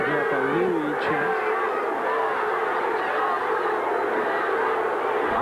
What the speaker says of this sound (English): Crowd taking up a Louie chant.